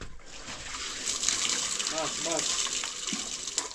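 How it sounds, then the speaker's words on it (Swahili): Water gushes and splashes in a steady pour, with brief voices murmuring nearby. "First we pour water and then concrete."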